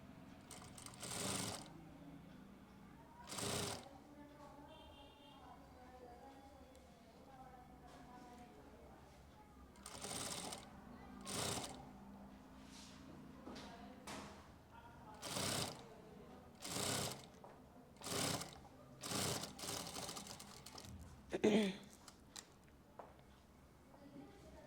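A sewing machine stitches a zip into bell-bottom pants in repeated short, whirring bursts separated by pauses, with someone talking quietly between runs.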